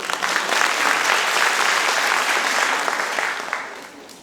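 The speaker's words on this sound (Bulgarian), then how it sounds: "Аплодисменти!" An audience bursts into sustained applause for a folk dance ensemble, dense clapping that holds steady for several seconds before tapering off at the end.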